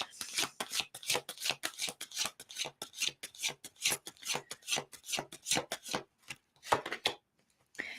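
Tarot cards being shuffled by hand, a fast series of crisp riffling and sliding bursts, close and clear, with a short pause and a final card drawn near the end; no talking.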